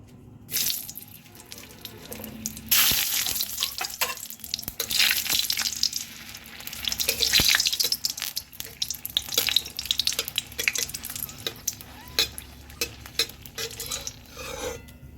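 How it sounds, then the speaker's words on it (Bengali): Hot mustard oil sizzles and crackles steadily in a pan as chilies fry, with occasional stirring and clinks of metal. "লঙ্কাটাকে ভেজে তুলে নিলাম"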